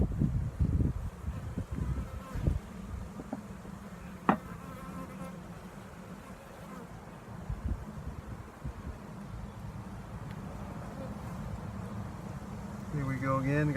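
Honeybees from a split hive buzzing around a hive, a dense continuous drone close by with occasional louder passes, and a voice talking over it.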